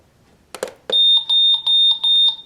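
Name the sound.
loud alarm of a 2011 New York Mets LED clock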